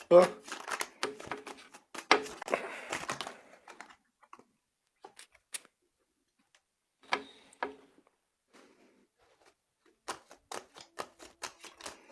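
Tarot cards are cut and shuffled by hand, a dense riffling flutter followed by scattered soft snaps and taps as the deck is squared, close and moderately quiet, with a voice speaking over parts of it.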